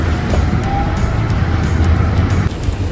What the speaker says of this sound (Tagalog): Grabe yung patakbo ngayon ng driver ng bus